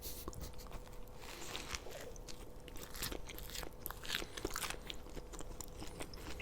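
McDonald's burgers, fries and nuggets being eaten up close, with continuous soft crunching, biting and wet chewing at a low, even level and no talk.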